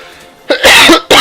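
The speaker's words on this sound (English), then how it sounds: "my coughing." A person coughs a few times in quick harsh bursts, close to the microphone and loud.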